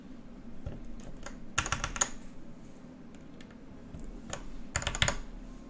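Keys clack on a custom mechanical keyboard fitted with rose gold keycaps, irregular bursts of close, crisp keystrokes with short pauses between flurries and no talking.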